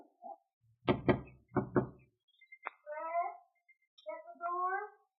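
Two quick double knocks rap on a door in a quiet house with a hedge and hammock outside, followed by soft drawn-out cat-like meows.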